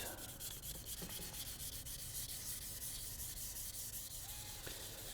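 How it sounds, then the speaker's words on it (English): Light scuff sanding of the finish on the back of a guitar neck, a continuous soft rasping rub in quick, even back-and-forth strokes, close and fairly quiet. "you're just scuffing the finish. Just keep moving consistently, just a little bit of pressure."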